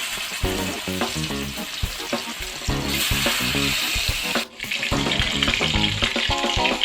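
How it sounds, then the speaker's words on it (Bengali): Ash gourd pieces fry in hot oil in a wok, giving a loud, close, continuous sizzle with frequent crackles and the scrape of stirring, alone without talk. "তেল গরম হয়ে গেছে, চাল কুমড়োগুলো দিয়ে দিব।"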